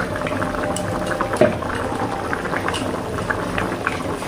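Gravy for a bhola fish curry bubbling in a pot, a steady soft simmer of small pops and burbles close by, with no talk.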